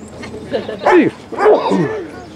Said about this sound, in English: Somebody like to put that dog in the car?